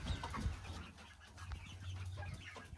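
Hens and roosters clucking softly nearby in a mobile coop, a quiet, continuous chorus of short murmuring calls overlapping with a low background hum.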